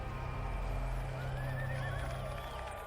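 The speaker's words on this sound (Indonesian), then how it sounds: "Kate dan Tyler sedang mengasyik nonton rodeo atau olahraga berkuda" Horses at a rodeo whinny with rising and falling neighs and hooves clop beneath, heard at a distance over a dense, steady crowd or ambient roar.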